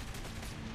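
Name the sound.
gunshot at a window in the video game Saints Row: The Third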